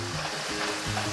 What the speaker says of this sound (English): you just stir it around occasionally while it's browning